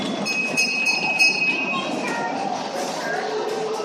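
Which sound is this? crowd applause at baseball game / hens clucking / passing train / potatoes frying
passing train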